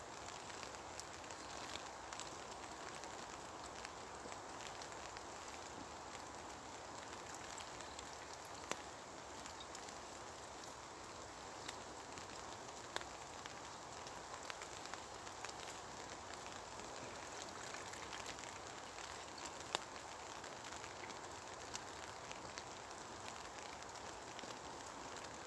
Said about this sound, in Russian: Идет дождь, необычные условия.